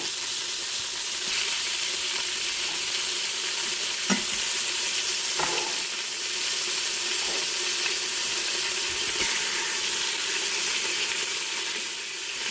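Beef searing in an Instant Pot, a loud, dense, continuous sizzle close up with occasional scraping stirs and small knocks against the pot.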